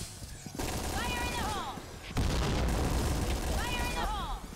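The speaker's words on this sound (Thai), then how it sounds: "ได้ยินแต่เสียงกระสุนครับ" Rapid gunfire crackles in a competitive video game match, loud bursts of shots running through most of the moment alongside game effects and a voice talking over it.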